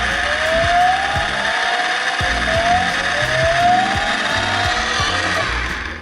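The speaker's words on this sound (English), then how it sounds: "Turning the switch on, you can hear the engine sound, right? So now I'm gonna accelerate." A Rastar 1/14 Ferrari F40 RC car, converted and upgraded, runs its electric motors with a simulated engine sound while accelerating. Loud, steady mechanical whirring and gear whine fill the clip, with rising motor tones sweeping upward.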